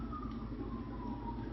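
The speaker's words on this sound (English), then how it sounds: "Hear that siren?" An emergency siren wails faintly in the background, a slowly falling tone under a steady low rumble of traffic or room noise.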